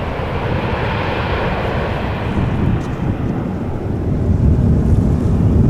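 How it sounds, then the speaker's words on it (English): A KLM airliner taking off at Amsterdam Schiphol Airport, a loud steady jet engine roar with wind rumble that swells slightly toward the end, continuous throughout. "KLM flight to Oslo that just took off is still visible"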